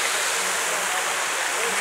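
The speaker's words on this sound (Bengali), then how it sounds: "শিবলিঙ্গর ওপরে কিন্তু কন্টিনিউয়াস জল পড়ছে" Water pours steadily and continuously over a Shiva lingam at a temple shrine in Pokhara, Nepal, a constant broadband splashing rush with no pauses throughout.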